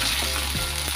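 Ginger-garlic paste fries in hot oil with a loud, steady sizzle, one or two brief stirring scrapes over the continuous crackle.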